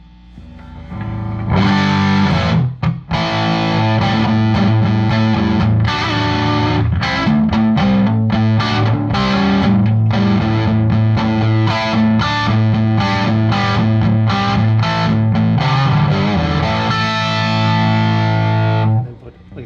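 A distorted electric guitar through a Gjika Mini Amp EL84 power tube distortion pedal plays a busy run of chords and notes, loud and saturated, close up with no talking.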